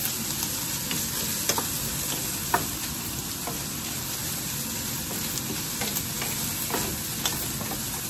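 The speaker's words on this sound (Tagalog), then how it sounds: "fry lang natin ng konti." Food sizzles and fries steadily in a pan in a home kitchen, with scattered clicks and scrapes of stirring over a constant crackling hiss; no one speaks.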